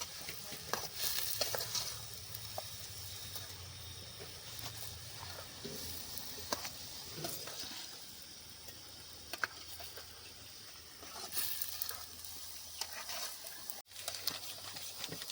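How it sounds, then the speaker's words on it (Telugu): Chicken pieces tossed with masala in a pan over an outdoor fire, giving soft continuous sizzling and scraping stirs, quiet and close. "చికెన్ మసాలా వేసి కొంచెం కలుపుకోవాలి ముక్కల్ని"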